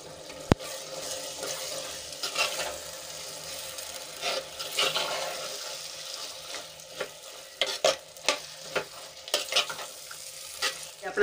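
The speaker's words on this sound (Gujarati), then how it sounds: "એમાં આપણે હવે ચણા ઉમેરીને 2 થી 3 મિનિટ સુધી સંતળાવા દઈશું." Green chickpeas sauté in spiced oil, giving a steady sizzle with scraping stirs and occasional clinks, close and fairly quiet throughout.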